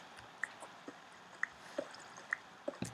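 Sparse water drips plink at irregular intervals in Minecraft, small and clear against a quiet background, each drop a short bright tick.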